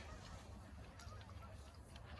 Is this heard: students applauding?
no